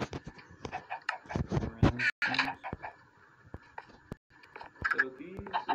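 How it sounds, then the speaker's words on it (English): Minecraft chickens clucking in short, choppy bursts, fairly close and lively, with several rapid calls bunched in the middle and a few more near the end, over a quiet game background. "Chickens and feathers."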